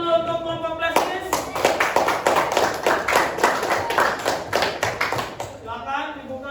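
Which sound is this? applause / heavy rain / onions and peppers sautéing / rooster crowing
applause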